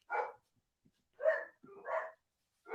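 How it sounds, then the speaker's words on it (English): Several dogs bark in short, loud bursts, about four barks spaced irregularly over a few seconds, close by with quiet gaps between them. "Why are these dogs barking their heads off?"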